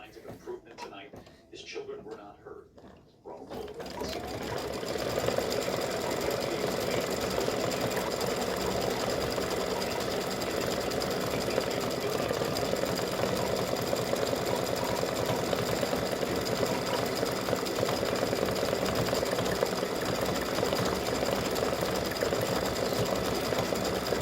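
An embroidery machine stitching red top thread on an in-the-hoop mug rug gnome design starts after a few seconds of brief voice and handling, then runs in a steady, rapid mechanical chatter close by.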